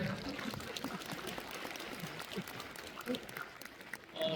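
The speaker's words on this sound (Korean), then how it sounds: "박수 한번 주시겠어요?" An audience claps through a lecture hall at a blockchain conference, giving steady, moderately loud applause that swells slightly near the end.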